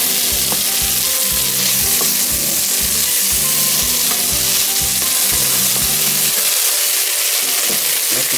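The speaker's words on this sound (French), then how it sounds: "Donc je retourne régulièrement afin que les légumes ne brûlent pas." Vegetables fry in a pan and are stirred regularly to keep them from burning. A loud, constant sizzle runs throughout, with repeated scraping and turning strokes from a utensil in an even rhythm that ends near the close.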